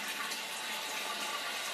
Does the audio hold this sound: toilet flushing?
yes